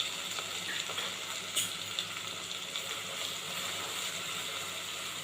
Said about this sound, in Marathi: लसूण छान तेलामध्ये भाजून घ्यायचं आहे.